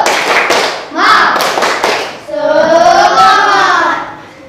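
A group claps a rhythmic spirit cheer in a classroom-style gathering, sharp bursts of hand claps mixed with children's chanting voices, close and loud.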